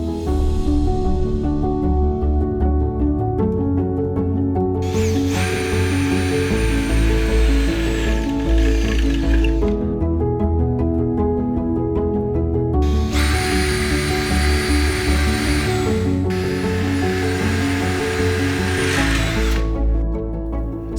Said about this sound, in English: Continue to mark and pre-drill all ring beams in a similar manner.